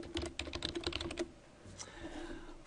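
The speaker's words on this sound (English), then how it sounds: "I'm just going to go ahead and click in that box and type Cal State Fullerton." Typing on a computer keyboard in a PowerPoint 2010 session: a quick, close run of light key clicks for about a second, then a few softer taps and faint room noise.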